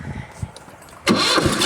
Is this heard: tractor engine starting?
yes